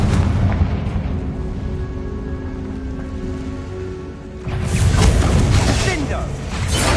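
A Confringo spell blast in a Hogwarts wizarding video game: a low rumbling background that swells into a loud, bursting explosion partway through, with crackling debris after it.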